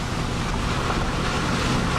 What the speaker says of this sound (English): all the water coming out of that creek right there is being diverted